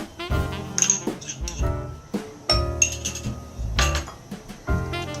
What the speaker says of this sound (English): To our chocolate, we're going to add our butter.